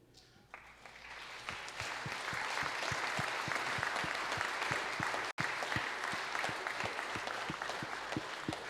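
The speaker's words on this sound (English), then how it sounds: "please stand up right now so we can just clap for you." A church congregation applauds high school and college graduates, dense sustained clapping from many hands filling the room, steady and loud with a brief dropout midway.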